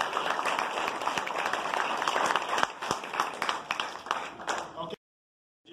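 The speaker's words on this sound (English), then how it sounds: "let's give another round of applause" Audience applause at a police captain's promotion ceremony, a dense burst of clapping that carries on steadily for about five seconds, then cuts off abruptly into silence.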